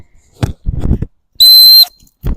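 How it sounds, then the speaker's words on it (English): A gundog stop whistle sounds once as a single loud, piercing, steady blast lasting under half a second, set between soft thuds and rustling movement nearby. "reinforcing the whistle"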